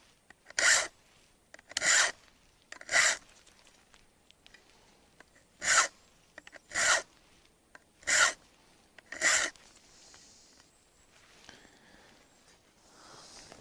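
A hand file sharpens chainsaw chain teeth in seven distinct rasping strokes at a slow, even pace. The strokes are close and crisp, each followed by a short pause, and they end with quieter background sounds.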